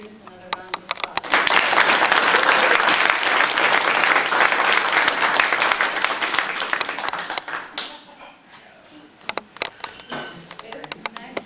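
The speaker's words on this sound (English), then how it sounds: "give the students another round of applause" An audience at a student intern recognition night applauds the students, a sustained wash of many hands swelling quickly and holding, then thinning to scattered claps near the end, with a few camera-like clicks.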